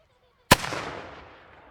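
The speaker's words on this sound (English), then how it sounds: "Get ready for cannon noise" A single heavy blast from a muzzle-loading cannon after a moment of quiet, booming sharply and then rumbling away in a long decaying echo, at Waxhaw Battlefield, Lancaster, South Carolina.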